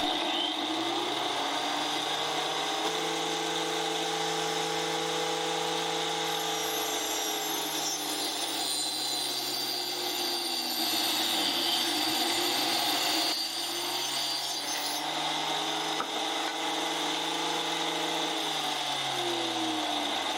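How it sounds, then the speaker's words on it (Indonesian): A table saw fitted with a new 70-tooth blade cuts through wood, a steady whining motor hum with a rising, grinding pitch as the blade bites into the board, continuous and close. "Sekaligus saya mau tes mata gergaji yang baru saya beli, ini 70T."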